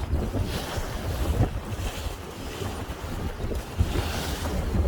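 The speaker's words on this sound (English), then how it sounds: "As you can see, even today, there's a west-southwest wind." A steady west-southwest wind blows over open water on a boat, with continuous broadband rushing and buffeting microphone noise and no talk.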